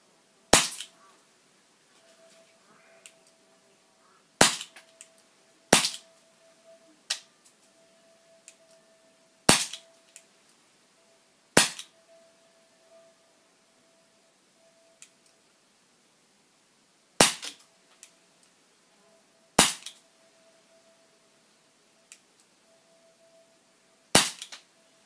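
A CO2 air pistol fires .177 caliber pellets weighing 8.65 grains, giving sharp, loud single shots spaced a few seconds apart, each with a quick snap and a faint tail, against a quiet background with a low steady hum.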